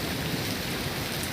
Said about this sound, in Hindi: देख रहे होंगे बारिश की बूंद है, फर्स्ट क्लास मौसम हो रहा है।